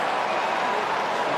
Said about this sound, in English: the crowd jump out of their seats